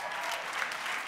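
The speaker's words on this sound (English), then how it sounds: "Linda, y'all gonna be clapping all day" A conference audience applauds in a brief, steady burst of clapping that fills the whole moment, dense and moderately loud, with no voices standing out.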